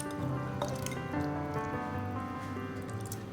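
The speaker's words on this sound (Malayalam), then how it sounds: "പാത്രം അടുപ്പ് വെച്ചു. അരക്കപ്പ് വെള്ളം ഒഴിക്കുവാണ്." Half a cup of water is poured into a pot on the stove while Kerala-style pineapple pachadi is cooked; a steady, continuous pouring and dripping runs close by for a few seconds.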